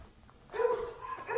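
A dog at a ranch with cabins and horses gives a few short barks and yips, moderately near, against quiet background with no talk.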